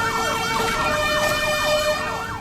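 A SAMU ambulance siren wails steadily and loudly, sweeping rapidly up and down in a repeating cycle. Road and engine noise runs beneath it.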